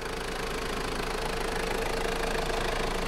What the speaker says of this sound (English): 3-liter turbo diesel engine.